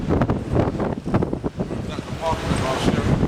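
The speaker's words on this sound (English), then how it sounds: "it's windy" Blustery wind buffets the microphone with a constant roar, and voices are faintly present beneath the gusts.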